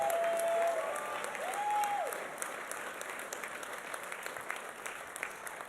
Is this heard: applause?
yes